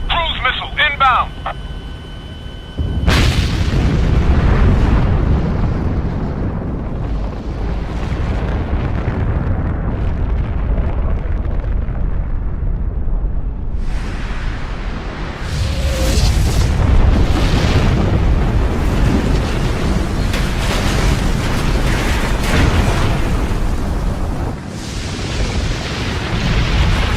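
Cruise missile blasts in an Ace Combat Assault Horizon cutscene: a loud, heavy boom erupts early, followed by sustained rumbling explosions and debris roar, with a second surge of blasts midway and voices talking over the din.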